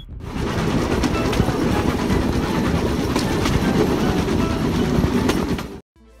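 A small motorized bamboo train rumbles steadily along the rails with a constant engine drone and light rattling, then cuts off abruptly near the end.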